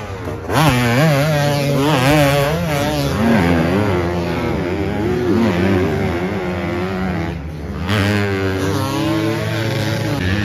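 Motocross bikes race past on the sandy track at round 5 of the French Elite motocross championship in Bitche. Loud, high engine whines rise and fall in pitch as several machines rev through the gears, with a brief dip before they surge again.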